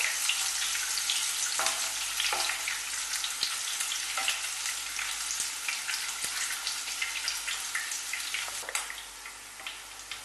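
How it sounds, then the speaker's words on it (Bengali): Paneer cubes frying lightly in oil in a pan for vegetable dum pulao, a dense, even crackling sizzle close up with occasional louder pops and stirring clicks, no voices. "খুব বেশি লাল করে ভাজবো না, হালকা করে ভেজে তুলে নেব।"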